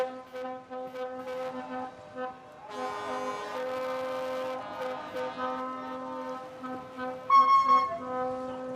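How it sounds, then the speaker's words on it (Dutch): Boat horns and whistles celebrating a Lemster crew's win at a Skûtsjesilen sailing race near Langweer, several sustained tonal toots overlapping at a distance, with a brighter horn blast near the end. "Toeters en fluiten."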